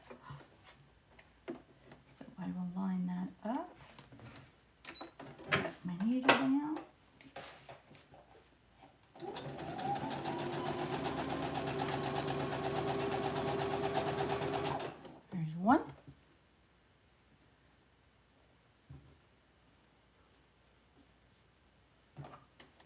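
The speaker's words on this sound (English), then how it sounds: "hope the sewing machine is not too loud for you." A domestic sewing machine stitching quilt pieces, running in one steady, loud whirring burst of about six seconds, with faint handling clicks and rustles before and after.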